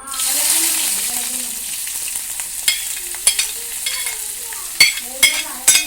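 Chopped ingredients go into a pan of oil where mustard seeds have popped, giving a brief burst of sizzling, then sharp scattered crackles and spatters over quieter frying, up close.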